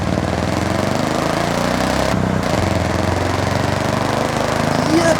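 A car in Forza Horizon 6 fitted with a race exhaust drones steadily and loud, a low, rough engine note holding constant with a brief dip near the middle and a slight swell at the end.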